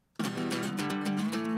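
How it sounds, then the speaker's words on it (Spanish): Acoustic guitar track played back in an Ableton Live funk mix, panned left, entering abruptly as sustained strummed chords that ring steadily and fairly loud, with no talking. "Cerremos y ahí está nuestra guitarra inclinada a la izquierda."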